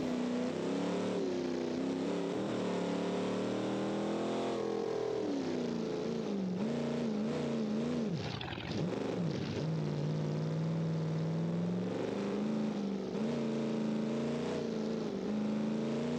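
A car engine in the BeamNG driving game hums and revs with shifting pitch while the driver yanks the handbrake to swing through a turn. There is a brief dip and surge midway, and it runs steady and close throughout with no voices.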